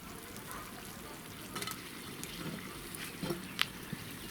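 Faint steady sizzling and bubbling of zucchini bolognese sauce boiling in a frying pan, with occasional soft clinks and light stirring noises.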